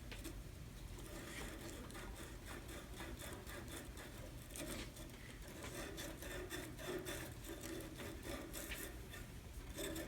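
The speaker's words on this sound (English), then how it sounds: "Sand both ends." Steady abrasive rubbing of sandpaper or emery cloth on the ends of copper AC line set pipe, quiet and continuous with a rhythmic rasping texture, no talking.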